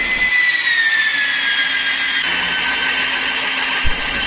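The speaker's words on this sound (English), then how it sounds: "press the green button of the drill switch to drill" A magnetic drilling machine bores with a twist drill bit, a steady high whine with a slowly falling tone and a low motor hum underneath, close and continuous, with a brief knock near the end.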